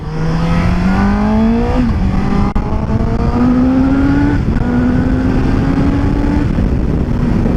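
A Suzuki GSX-S750 inline-four motorcycle accelerates hard from first gear, its loud, close engine note climbing steadily in pitch and snapping down briefly at each upshift before rising again, with a constant roar throughout.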